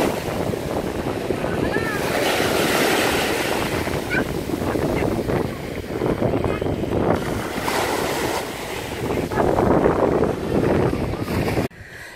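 Ocean waves wash steadily onto a beach and draw back with the clear blue water, a continuous broad rushing surf that swells and recedes, mixed with gusts of wind buffeting the microphone.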